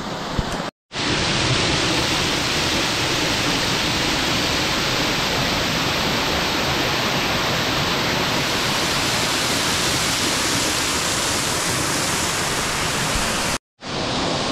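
Tugga waterfall, its water pouring down in a dense, roaring rush heard close and loud, a steady broadband wash that continues unbroken apart from two brief cuts to silence.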